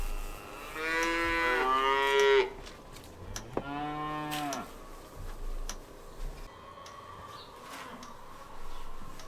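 Cattle moo twice close by, a long low call followed by a shorter one, with quiet outdoor ambience and faint ticking afterward.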